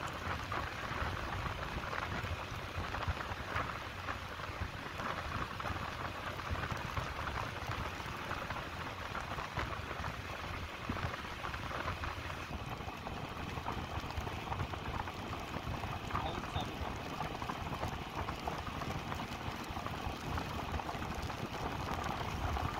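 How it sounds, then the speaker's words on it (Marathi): Light rain begins falling during a motorcycle ride near Kashedi Tunnel in the Konkan region, a faint, steady pattering hiss that stays even from start to finish. "मला जाणवतं की पाऊस पडायला सुरुवात झालेली आहे"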